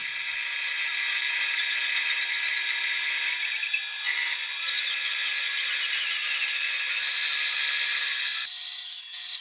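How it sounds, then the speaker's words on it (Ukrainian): Power tool cutting aluminium stock for a homemade workshop machine, a steady high whining and screeching that stays loud and continuous with no voices. "Тепер потрібно нарізати ще трошки алюмінію."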